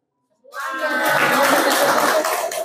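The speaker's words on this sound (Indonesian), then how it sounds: "Yang Kamabigus tepuk tangan." School principals at a scouting orientation in Lamongan break into applause all at once after a silent start, a dense burst of clapping mixed with voices that holds steady to the end.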